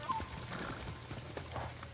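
A horse in the Ghost of Tsushima video game snorts and whinnies briefly over soft, steady hoof clip-clops and low background rumble, with faint talk underneath.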